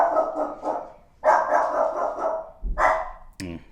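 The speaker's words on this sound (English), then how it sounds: "the dog always freaks him out when he starts barking" A house dog barks in short, close bursts indoors, a few separate rounds of barking with brief pauses between them and a sharp sound at the end.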